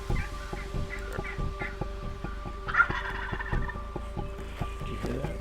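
Wild turkey gobblers gobble in a rapid, rattling call during a spring hunt, followed by a louder burst midway, over a faint steady hum and soft clucks.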